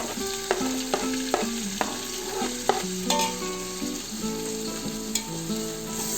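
Tomatoes fry and get stirred in a pot for Ambur-style country chicken biryani, with a steady sizzle and occasional utensil taps, while light music plays in the background.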